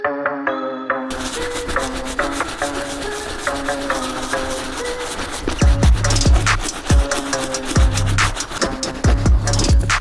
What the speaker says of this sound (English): We're gonna use this brush, you guys, to clean up the white leather.